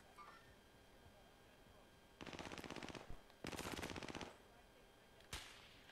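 Rapid automatic gunfire from a shooter video game crackles in three bursts: two sustained volleys of about a second each, then a short final burst, loud and close over a quiet background.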